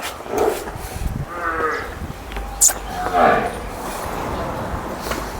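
A freshly calved buffalo lows in a Punjabi dairy yard. It gives a couple of short, moderate calls under people talking and general barn noise.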